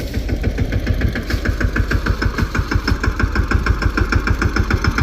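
A small tractor engine runs steadily up close in a village field, its low, rapid knocking pulse continuing evenly throughout with no talk over it.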